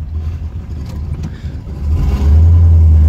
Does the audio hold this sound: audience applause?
no